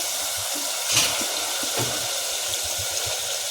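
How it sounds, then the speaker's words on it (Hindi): Water poured into a pan of frying potatoes for an egg and potato curry, a loud steady hiss and sizzle filling the whole stretch, with faint clinks and bubbling underneath. "ये देखिए अब पानी डाले देते हैं।"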